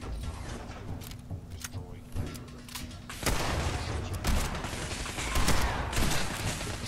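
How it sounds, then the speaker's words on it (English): Gunfire in Fallout 4 on Survival difficulty, a run of shots over a steady game background that grows denser and louder partway through, with a voice talking faintly underneath. "See if I can shoot through her legs."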